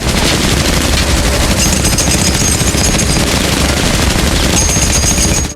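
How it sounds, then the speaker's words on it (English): Machine gun fire sprays into a tunnel in a TV drama scene, a loud, sustained rapid stream of shots with no pause and no voices. "Lalo picked up the lookout's machine gun and started wildly shooting into the tunnel"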